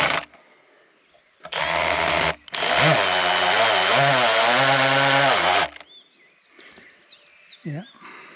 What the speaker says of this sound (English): so I'll be re-drilling a couple